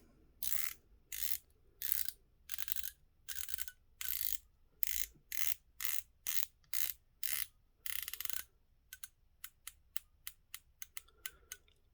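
An aluminium Proxima dive watch bezel is turned in a dozen close, steady ratcheting bursts, then single crisp clicks in a quicker run, quiet with no talk.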